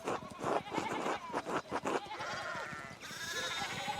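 Sheep bleating in the video game Pentiment, several wavering bleats in quick succession, fairly close and alone without speech.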